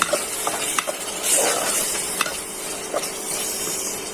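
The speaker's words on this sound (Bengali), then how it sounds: "এখন নেড়ে চেড়ে মশলাটা কষিয়ে নিই।" Spice masala with cumin powder and salt frying in a pan, a soft steady sizzle and hiss with light scattered stirring scrapes and clinks, close and without speech.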